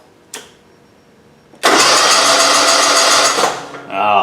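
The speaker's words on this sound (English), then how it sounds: "And now the engine cranks just like it's supposed to." A lawn tractor engine, fitted with a new key switch, cranks briefly and then catches. It runs loud and steady close by for about two seconds before easing off. A short click comes just before the cranking.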